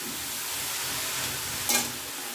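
Grated carrots fry in a kadai for gajar halwa, giving a soft steady sizzle with a brief scrape of stirring near the end, close and fairly quiet, without talk.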